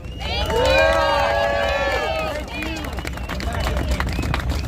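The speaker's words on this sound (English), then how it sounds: "So another round of applause to them" A crowd at a People's Convoy rally at Hagerstown Speedway applauds and cheers for the convoy organizers, a loud burst of clapping with whoops rising over the noise, then easing into a steadier murmur of claps and voices.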